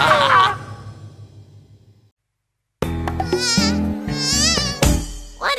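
A cartoon mosquito buzzes loudly over music in a children's song, a high whining drone that fades into silence before bright, busy musical tones resume.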